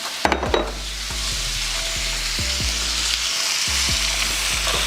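Ground beef and pork, or Italian sausage, frying in a pan for spaghetti sauce, with a loud, steady sizzle and repeated spoon scrapes and stirs close up, no voices.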